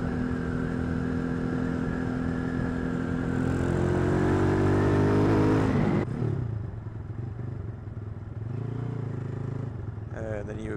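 Honda Dax small motorcycle being ridden on a road, a steady buzzing engine drone that rises in pitch, then drops off as the bike slows and picks up again, close and continuous.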